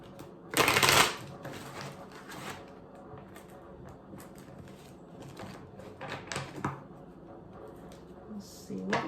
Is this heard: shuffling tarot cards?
yes